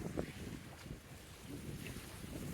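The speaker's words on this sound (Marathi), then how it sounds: "छान अशा लाटा येत आहेत" Sea waves washing in at Karanja harbour on a festival day, a soft, rolling wash mixed with wind buffeting the microphone, faint and fairly distant, with no talk.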